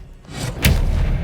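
One Confringo spell blast in Hogwarts Legacy lands as a short, loud, bassy boom with a whooshing burst, then a rumbling tail fading over the rest of the moment.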